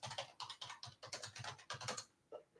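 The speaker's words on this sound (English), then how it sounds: "Type in FBI background check." Typing on a computer keyboard, a quick run of close, soft key clicks in uneven bursts, fairly faint and with no talk.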